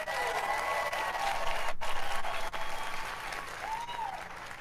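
Steady applause from a large audience at Bethesda's E3 2018 press conference fills the hall, sustained and fairly loud throughout with a brief dip midway, with no talk over it.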